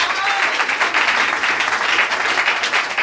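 Church congregation clapping in a sustained, dense burst of applause that fills the room at a steady loud level throughout, with faint crowd voices mixed in.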